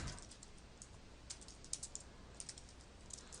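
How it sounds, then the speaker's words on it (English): Typing on a computer keyboard into a notepad, quiet and close, with soft irregular key clicks and a few sharper taps over a steady background hiss. "I come into my notepad here, and I can start typing, record something"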